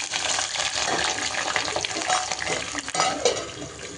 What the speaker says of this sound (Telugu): ఇప్పుడు కట్ చేసి పెట్టుకున్న 1 ఉల్లిగడ్డ, 4 పచ్చిమిర్చి వేసేస్తున్నా